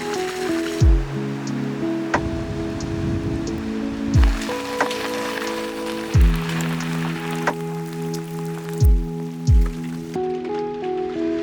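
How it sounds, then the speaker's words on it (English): Steady heavy rain pours throughout, a dense hiss with a few dull thumps and rumbles breaking through every couple of seconds. "It is absolutely pouring rain."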